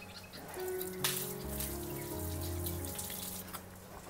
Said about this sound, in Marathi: हे तर पाणी काढून घेऊया.